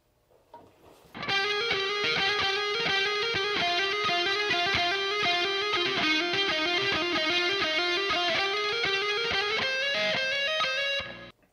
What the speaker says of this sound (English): Just for fun, we'll throw the reverb on the OD2.